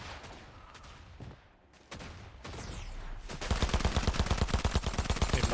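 Gunfire in the video game Fortnite: a few scattered shots, then loud, rapid automatic bursts that fire continuously through the second half, close and dense.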